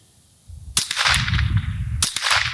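A Remington Nylon 66 rifle fires twice, each sharp close report with a noisy tail, the first near the start and the second about a second later, over a low outdoor rumble.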